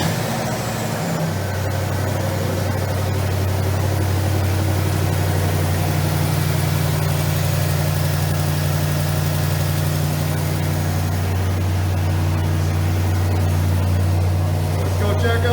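A deep, steady Hemi V8 engine idle rumbles continuously throughout, with a low throbbing drone and faint talk mixed in the background.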